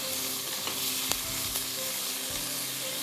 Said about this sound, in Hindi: ज़रा हल्की सी सौटे करके चिकन के पीसेस आपने डाल देने हैं।